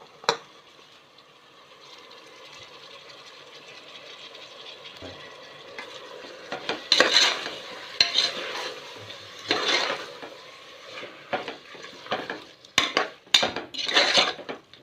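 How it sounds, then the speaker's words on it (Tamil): Chopped tomatoes with mint and coriander are sautéed in a pan. A faint sizzle builds gradually, then a spoon stirs and scrapes in irregular, louder clinking bursts close by. "அது கூடவே புதினா கொத்தமல்லியும் சேர்த்து வதக்கிக்கலாம்."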